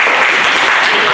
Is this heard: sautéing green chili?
no